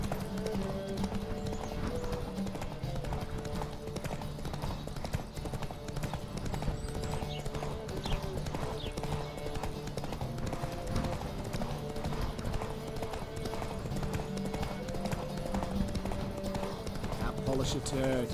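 Horse hooves galloping in The Witcher 3: Wild Hunt during a race, a steady rapid clip-clop running the whole time beneath game music and voices.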